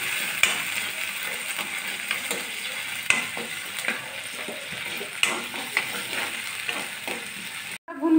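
Chopped garlic and onion fry in a hot pan for fried dal pithi, a steady close sizzle with occasional scrapes and stirring knocks, no talk.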